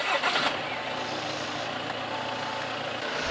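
A car engine turns over and catches, a brief cranking burst followed by a steady, fairly quiet idle with little noise, heard up close during a pre-driving-test vehicle check.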